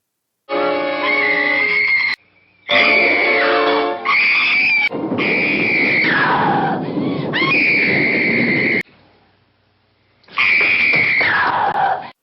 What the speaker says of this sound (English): She keeps screaming like that, she's going to have a voice like Lance Hendrickson.